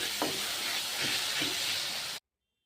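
Mutton and spices such as turmeric sizzle and fry in a pan with a steady close hiss, broken by a few soft scraping stirs, until the sound cuts off abruptly near the end.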